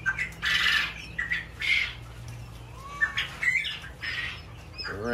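Quail on a quail farm give a series of repeated harsh squawks and short chirps, moderately loud and close, with faint wing flutters in between and a low background hum.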